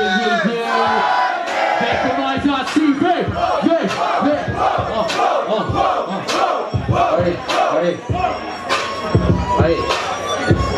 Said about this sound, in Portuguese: Barulho pra quem gostou da rima do Guinho